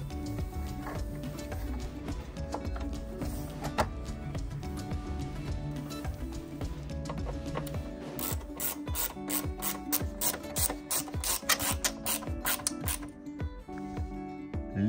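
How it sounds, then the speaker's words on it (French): A screw is driven in by hand as an LED headlight unit is refitted on a Renault Megane 3, producing close, repeated ratcheting clicks and mechanical ticks with no talk. "On renfonce le feu et il n'y a plus qu'à visser."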